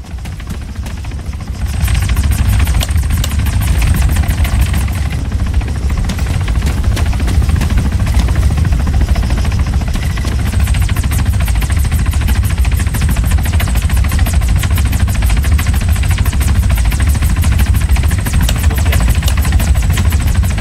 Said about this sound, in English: Helikopter patah balik.